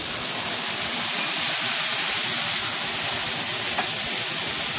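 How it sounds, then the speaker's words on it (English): Vegetables sizzle steadily in a hot pan as they are stirred at home, a constant close hiss with no voices and one faint clink partway through. "We're just going to give my veggies a little stir."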